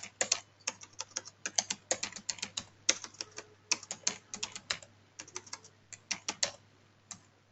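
Keys on a computer keyboard clatter in quick irregular bursts with short pauses, close and fairly quiet, ending in a single harder key press.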